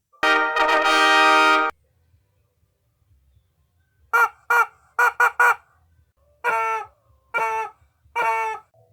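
A chicken squawks loudly and close by: one long drawn-out call, a pause of near silence, then a burst of short, sharp clucks and squawks in an uneven rhythm.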